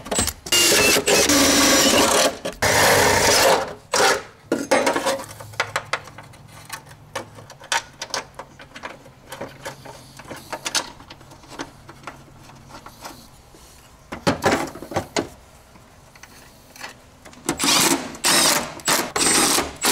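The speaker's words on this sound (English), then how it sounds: "now all I gotta do is drill some holes and bolt it in from the bottom" A power drill whirs in several short bursts separated by pauses, drilling bolt holes to mount a part on a Nissan Cefiro, with quieter handling noises and clattering between the drilling.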